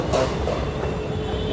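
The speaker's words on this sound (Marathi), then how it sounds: "मेट्रो" A Mumbai metro train rumbles steadily nearby, a continuous low rolling drone with faint rail clatter, brief and moderately loud.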